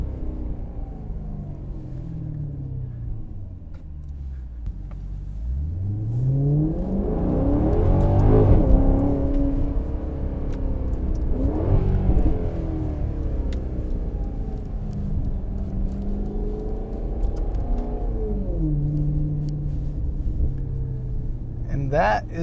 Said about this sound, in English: Sounds fantastic with that Ferrari motor.